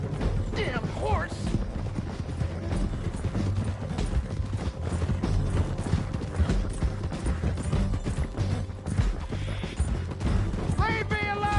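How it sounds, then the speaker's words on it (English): Hooves clip-clopping from a horse in Red Dead Redemption 2, running steadily through a dense, busy game scene mixed with music, commotion and brief neighing, with voices talking over it. "Damn horse!"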